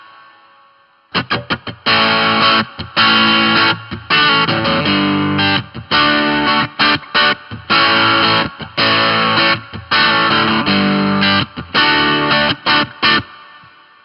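Loud distorted electric guitar chords played in rhythmic bursts with short gaps, the heavy crunchy tone carrying a wash of reverb.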